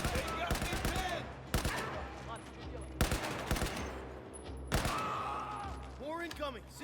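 Battlefield 4 campaign firefight with rapid bursts of automatic gunfire, loud and close, repeating in clusters while shouting voices call out over the shooting.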